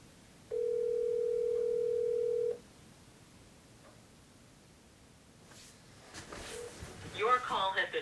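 A phone call rings out on the line with one long steady tone, then a quiet pause before faint rustling and louder clicks and noise rise near the end.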